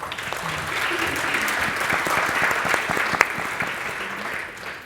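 An audience at an NHS workforce summit applauds, a dense, steady clatter of many hands clapping at moderate loudness that holds for several seconds before tapering off at the end.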